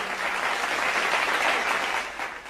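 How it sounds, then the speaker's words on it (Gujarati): An audience applauds at a book launch event in Thara, a steady wash of many hands clapping at moderate loudness that tapers slightly at the end, with no talk. "ખૂબ આપણે તાળીઓથી વધાવી લઈએ"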